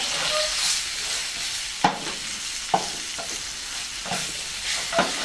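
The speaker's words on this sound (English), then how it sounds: "We want to get this all browned up nicely." Meat browning in a pressure cooker hisses and sizzles steadily, with a few sharp scrapes of stirring breaking through at intervals; close and moderately loud, no voices.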